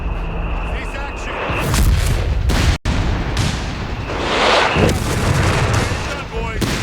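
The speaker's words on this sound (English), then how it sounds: "Barrage, on the way!" An artillery barrage in the video game Company of Heroes 3 thunders as a dense wall of heavy booms and blasts, loud and close, with bursts of gunfire mixed in and voices calling out over the din.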